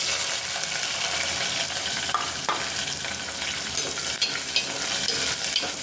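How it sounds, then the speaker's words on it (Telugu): Onions, green chillies and curry leaves frying in oil, a dense continuous sizzle close up with occasional stirring scrapes and small pops, with no talk. "కరేపాకు కూడా ఫ్రై అయ్యాక కట్ చేసుకున్న ఉల్లిపాయలు పచ్చిమిరకాయలు"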